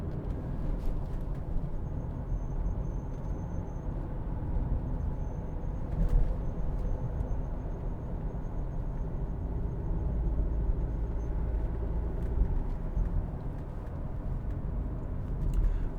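Mercedes-Benz SLK200 Kompressor 1.8 driven on the road, heard as a steady low engine and road drone with tyre rumble, swelling slightly at times, with no voices.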